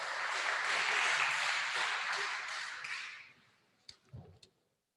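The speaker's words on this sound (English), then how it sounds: "Now it's time for the round of applause." Audience applause at an ocean protection challenge grand finale in Monaco, a dense sustained crowd clapping that fades out after about three seconds, followed by a few scattered claps and faint sounds.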